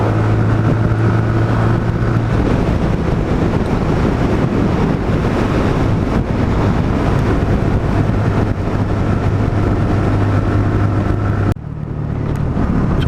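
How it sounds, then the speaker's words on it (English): Heavy wind buffets the microphone with a loud, roaring rush over the steady engine drone of a Sinnis Outlaw 125 motorcycle on the road, continuous and close, cutting off abruptly near the end. "It's not half windy today."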